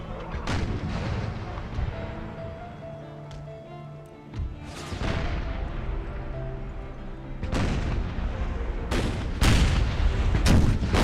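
Artillery fire in an Empire: Total War Brothers vs. Brothers mod battle: repeated deep cannon booms at irregular intervals, some near and loud, others farther off, over a constant rumble of battlefield noise.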